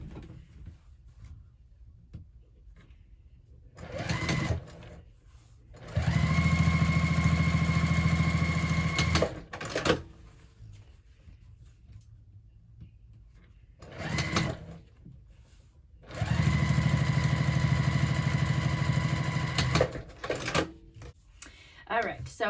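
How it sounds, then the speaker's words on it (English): Domestic sewing machine top stitching either side of a bag seam at an eighth-inch allowance, whirring in two steady sustained runs of a few seconds each, separated by quieter pauses with small handling noises. "then we'll come back to the sewing machine and we're going to top stitch on either side of the seam"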